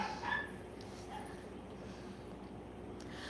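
A house dog lets out one faint, brief yelp near the start, then only a low, quiet background hum remains.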